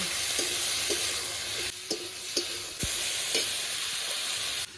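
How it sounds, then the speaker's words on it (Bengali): Eggplant and potato frying in oil with green chili, salt and turmeric, a steady bright sizzle close up with occasional spoon knocks and scrapes against the pan. "এবার বেগুন আর আলুটা ভেজে নেব"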